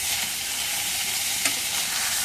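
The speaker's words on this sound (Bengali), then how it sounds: "এখন মাছগুলো ভাজা হয়ে গেছে, এখন নামাই নিই।" Steady, close hiss of fish frying in hot oil in a pan, an even broadband sizzle with one brief scrape or clink midway and no talking.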